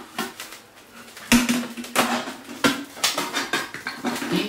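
A cooking-pot style dental polymerizer has its pot lid lifted off, producing several sharp metallic clanks and rattles of metal on metal, close and fairly loud, with no talking.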